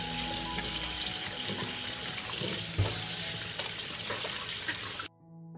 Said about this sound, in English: First, I'll wash the tomatoes.